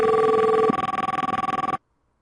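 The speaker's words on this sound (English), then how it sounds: "So it's ringing my phone," A phone rings during a call-center system test: a steady tone gives way to a rapid pulsing electronic ring that cuts off abruptly, leaving silence.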